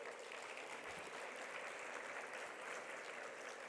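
An audience at a Catholic university general assembly applauds a university president being welcomed, a dense, even patter of clapping heard at a moderate distance throughout.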